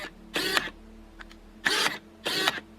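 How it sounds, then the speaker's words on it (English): A Pentax lens with screw-drive autofocus, making three short, fairly loud whirring zips separated by brief quiet gaps. "they're going to be relatively loud when they're focusing, make like a zoop, zoop, zoop"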